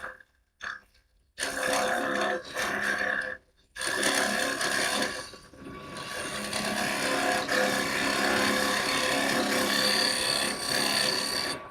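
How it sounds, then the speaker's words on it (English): A straight gouge carves into wood below a swan neck section, making steady, close scraping and shaving strokes that run almost continuously after a few short pauses. "So now I'm going from the swan neck to this straight gouge to do the bottom part of it."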